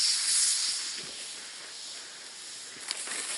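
A propane camping-stove canister hisses steadily while burning, a loud, bright, rushing gas noise that slowly eases in strength, with a small click or pop near the end.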